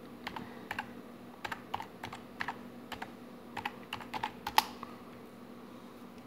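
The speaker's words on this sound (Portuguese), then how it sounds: "E no Google você vai digitar a seguinte pesquisa" Typing on a computer keyboard while searching for an HP DeskJet 2774 printer driver, with an irregular run of light, close key clicks and a sharper tap near the end over a steady hum.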